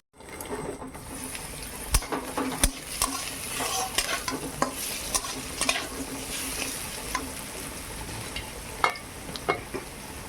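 Boiled noodles for chow mein frying in a pan, a lively sizzle broken by frequent sharp clinks and scrapes of a spatula stirring against the metal, with no voices.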